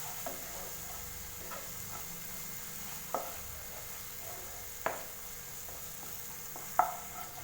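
Spice powders sautéing in a pan for an egg masala curry give a faint, steady sizzle, broken by a few sharp spoon scrapes and taps spaced a couple of seconds apart, with no voices.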